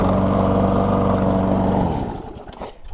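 Engine of a used lawnmower bought at auction running steadily with a loud, close, even drone, then slowing and sputtering down to a rough idle near the end, no talk over it.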